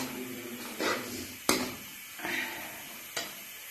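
Frozen chicken sausages cooking in a pan, a soft, quiet sizzle with occasional brief crackles and spatters rising out of a low hiss.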